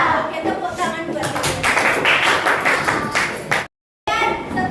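Schoolchildren in a classroom clap together in a dense, fast patter of hands with voices mixed in, loud and near, before an abrupt brief silence.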